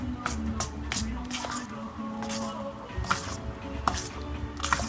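Banana bread batter with raspberries is stirred in a bowl, giving soft squishing and light tapping clicks at an uneven pace, quiet and close, with faint speech in the background.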